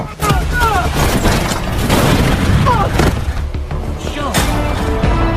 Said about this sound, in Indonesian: Lalu si Hippo mencoba mengambil roket untuk menembak si Scott 22.